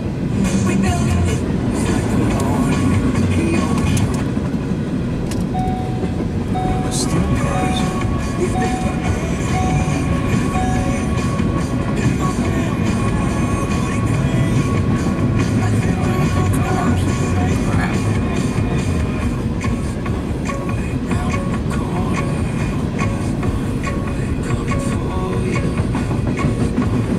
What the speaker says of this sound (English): Bunch of empty cars. Long train.